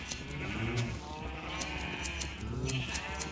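Sheep in a Minecraft-style game bleat several times, wavering bleats close and fairly clear, rising and falling over steady background game ambience with no talk.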